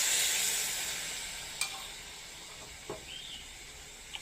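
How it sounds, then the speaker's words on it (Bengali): Spinach frying with spices in a pan for a Bengali rohu fish dish: a faint, steady sizzling hiss runs throughout, with a few soft clicks and stirring knocks. "এবার আমি এখানে ভালো করে ভাজবো একেবারে পালং শাক"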